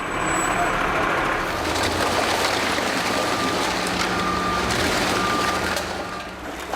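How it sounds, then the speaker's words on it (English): A mechanical shovel working in a busy waste reception hall at a recycling plant in Costessey, Norfolk, sounds a loud repeating reversing beep over a constant heavy engine rumble and broad industrial noise. "Here it is tipped and fed by mechanical shovel onto the in-feed conveyor"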